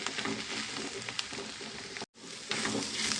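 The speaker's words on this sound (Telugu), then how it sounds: "ఈ నూనెలోనే దీన్ని బాగా ఫ్రై చేద్దామండి" Gongura leaves fry in hot oil in a pan with a steady, dense sizzle close by. The sizzle cuts out briefly partway through and then returns at full strength.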